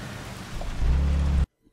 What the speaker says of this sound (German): Na super, jetzt regnet es auch noch